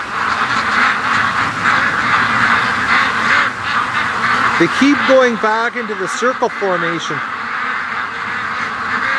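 Ducks quack in a loose burst of several nasal calls near a gate on a windy day, under a person talking over steady wind noise.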